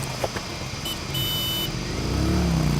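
A vehicle pulls away into busy Indian traffic, its engine rising in pitch as it accelerates, with a brief high horn-like tone and surrounding road noise close by.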